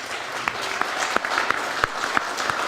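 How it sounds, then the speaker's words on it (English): Audience at a general election meeting of a Cypriot association in London gives a round of applause, a steady moderate patter with individual claps standing out. "So I think we should all give them a big round of applause."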